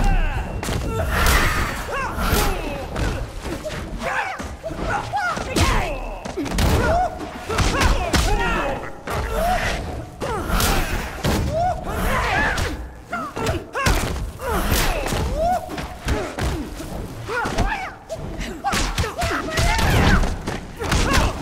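Liu Kang and Sindel fight in Mortal Kombat 9: a dense, continuous stream of punches, kicks, thuds and impact effects with grunts and game sounds throughout, loud and close.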